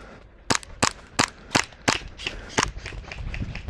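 An airsoft VSR10 sniper rifle fires during an outdoor game, giving a string of sharp, snapping shots at irregular intervals, loud and close over faint background noise.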